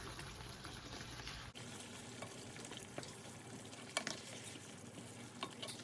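Deghi chicken korma curry being stirred in a pot, with a faint, continuous sizzle and soft scraping clinks of a spoon throughout, quiet and close.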